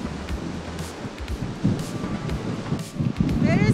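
Strong gusts in Iceland's Geysir geothermal area buffet the microphone with low rumbling roars that rise and fall, while a person talks faintly underneath.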